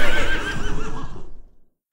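A horse neighs in the Warcraft 3 Reforged game, one loud, close whinny with a rapid quavering flutter that trails off into silence after about a second and a half.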